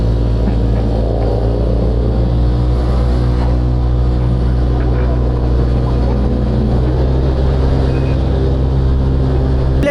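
Group ride of five motorcycles including a Yamaha MT-07, Aerox and Mio Gear, a loud, steady engine drone and road rumble heard close up, continuous with no pauses.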